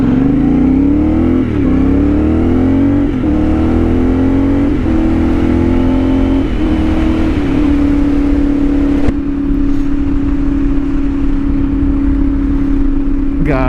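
A CFMOTO 450SS motorcycle with a new exhaust revs loudly and close, several rising blips climbing in pitch before settling into a steady high idle drone.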